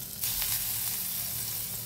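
Paneer pieces sizzle steadily in a kadhai of hot oil while being browned for paneer tikka, a close, continuous crackling frying sound with no talk.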